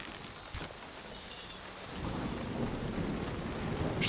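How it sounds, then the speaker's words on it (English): Hail storm in the video game Nightingale, a steady dense patter of hailstones beating down continuously, with a sharp crack near the start and a heavier low rumble building partway through. "Wish this hail would stop."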